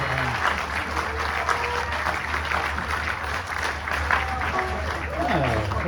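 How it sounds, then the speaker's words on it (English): An audience at a bluegrass show claps steadily throughout, a dense wash of applause while someone speaks over it and a whistle-like tone slides near the end. "Don't waste your time clapping."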